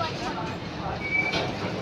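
Train pulling in at platform 5 at Panvel station, a steady low rumble and rolling noise with a brief faint squeal, heard amid station bustle.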